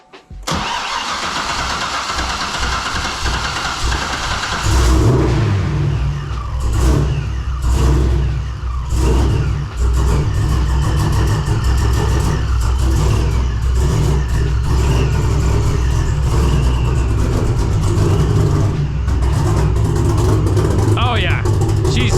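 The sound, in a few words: C6 Corvette engine starting and revving, supercharged, flooding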